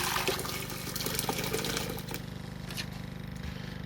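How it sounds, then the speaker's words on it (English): Boiling water pours and sloshes over refined gold in a container during rinsing, a continuous close splashing, gurgling wash that thins into a quieter trickle partway through. "I'll wash this a few times with boiling water."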